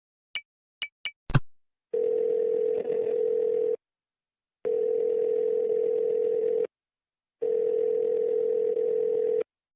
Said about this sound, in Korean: 정말로 신호가 가고 있어